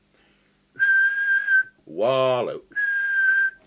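Two steady, clear whistled tones are blown into a CB radio microphone during a Danita 2000 transmitter alignment, separated by a brief spoken word, each tone held about a second.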